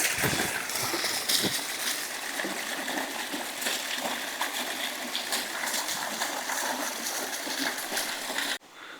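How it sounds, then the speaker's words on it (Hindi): Water from a waterfall splashes and rushes steadily into a can, a loud, continuous hissing spray that lasts nearly the whole time before dropping off sharply at the end. "तो देखिए आपको दिखता है जैसे झरने से पानी भर रहे हैं।"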